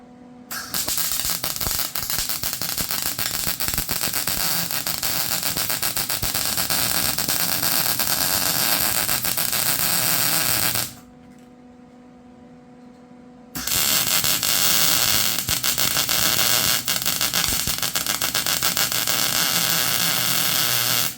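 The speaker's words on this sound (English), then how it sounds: "Let's tack it all 4 corners, then we'll weld it." Welding a steel patch onto the trashed mower deck of a John Deere L110, a loud continuous buzzing crackle of the arc that cuts out for a couple of seconds, leaving a low hum, then resumes at full strength; no talking.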